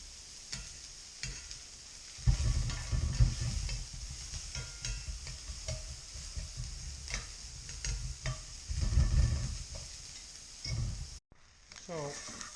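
Onions frying and browning in a pan, a close steady sizzle with bursts of stirring and scraping, and a voice talking over parts of it.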